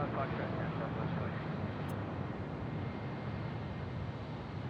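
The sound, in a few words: Southwest airliner taking off at Phoenix Sky Harbor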